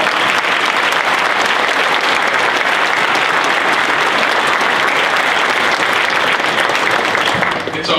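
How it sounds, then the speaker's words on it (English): An audience at a Minnesota Republican gubernatorial candidates forum gives a loud, continuous round of applause, many hands clapping close and full before it starts to taper right at the end. "So once again, please give a round of applause."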